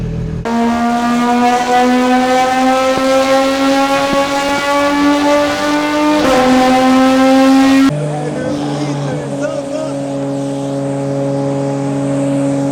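A car fitted with a JCR exhaust revs hard past 8000 rpm, a loud sustained harmonic wail rising and holding, then dropping to a lower steady drone near the end with a voice over it.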